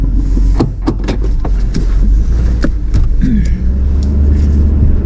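A 4x4 SUV runs off into a deep ditch on a rough, rain-torn mountain dirt road, its engine rumbling loudly and close while the body clunks and thumps over the bumps.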